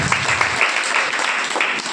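Audience applause at a Telugu fasting prayer gathering, a steady dense wash of clapping that runs throughout, with a low voice fading out in the first moments.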